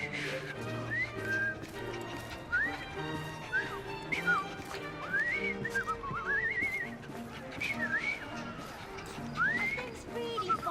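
A character in Assassin's Creed: Syndicate whistles a series of short rising and falling notes in a loose tune, steady over a busy street scene with hooves and background chatter.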